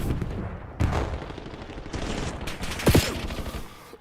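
Rapid gunfire from a competitive video game match keeps rattling throughout, with a sharp grenade blast bursting near the end amid the ongoing shooting.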